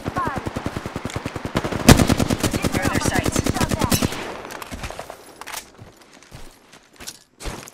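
Rapid automatic gunfire in Apex Legends, a loud sustained burst of evenly spaced shots for about four seconds, then a few scattered single shots and game sounds, with a voice faintly underneath.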